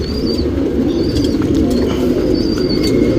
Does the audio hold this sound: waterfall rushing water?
no